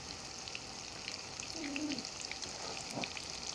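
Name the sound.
hamburger-style patties frying in a pan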